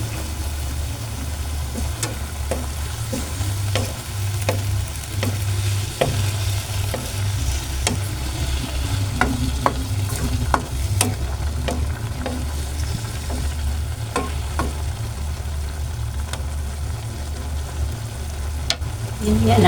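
Vegetables for chopsuey cooking in a pan, a steady sizzle and bubbling with scattered sharp clicks of stirring utensils, close and continuous throughout, with no talking.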